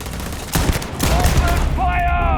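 A volley of gunfire in the space-exploration game Starfield, dense and loud from the start, rising into a sharper cluster of shots before a ringing electronic tone takes over near the end.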